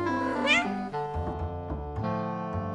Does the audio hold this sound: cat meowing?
yes